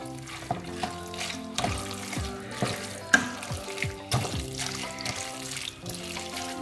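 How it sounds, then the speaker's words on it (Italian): Pasta is stirred with zucchini in a pan, producing a series of clinks, scrapes and wet stirring strokes in an irregular rhythm with short sharp knocks. Background music plays underneath. "Vado a metterla prima nelle zucchine e amalgamo bene il tutto."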